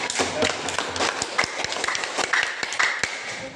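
A class of high school students claps hands together in a classroom, a busy, continuous crowd of clapping with scattered louder slaps and faint voices mixed in.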